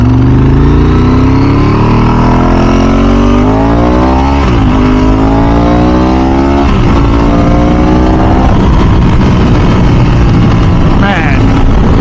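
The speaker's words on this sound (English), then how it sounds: "puts a smile on your face every time you twist the throttle on this bike" A Ducati 996 SPS motorcycle engine revs loud and close, its deep roar climbing in pitch through several gear shifts in a row, with a rumbling, throaty tone carrying on throughout.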